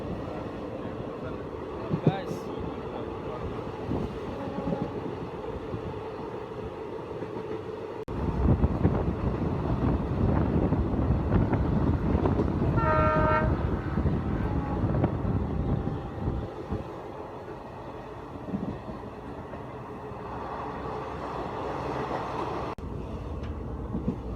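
A train rumbles steadily along the rails, the roar swelling louder for several seconds mid-way, with wind buffeting and faint voices in the background.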